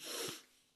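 A single quick, breathy sneeze from someone at a talk or discussion session. It is fairly quiet and fades quickly into a hushed room.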